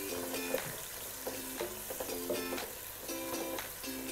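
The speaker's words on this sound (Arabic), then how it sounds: "طبعا هذا البصل بنخليه حتى يذبل ويصير لونه على ذهبي، يعني ما بدي احمره احرقه." Onions fry in a pan while being stirred, giving a steady, fairly quiet sizzle broken by periodic scraping and clinking of the utensil in an even rhythm.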